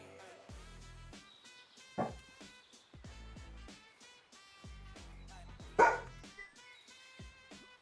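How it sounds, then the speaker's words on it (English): A puppy barks in several short, sharp yaps with pauses between them, fairly faint and heard alone. "A puppy dog is like, hey, there's something happening."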